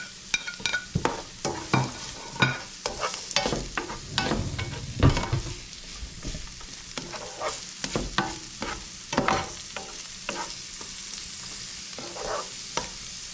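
Scallions and ruby pepper sauteing in a pan for cassareep banga, with a steady sizzle broken by repeated scraping and stirring strokes throughout, close and moderately loud, with no talking.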